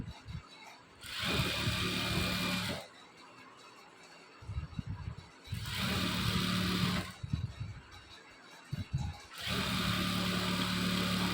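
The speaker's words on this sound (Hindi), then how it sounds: "दोनों पार्टों पर ऐसे ही सेम सिलाई चला लेनी है।" A sewing machine stitches the lining panels of a kurti in three loud, even bursts of two to three seconds each, separated by quieter pauses with handling sounds.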